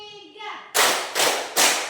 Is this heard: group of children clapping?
yes